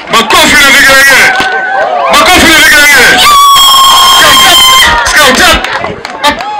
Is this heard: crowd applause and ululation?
yes